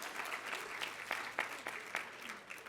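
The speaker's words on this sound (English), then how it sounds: "We give a round of applause for lunch, too" Attendees at an annual association meeting applaud the lunch, a steady faint round of crowd clapping with a few sharper individual claps standing out.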